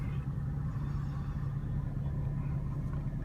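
A 2003 Mercedes-Benz S55 AMG pulls off for a drive, its engine giving a steady, low, close rumble with constant road noise and no pauses throughout.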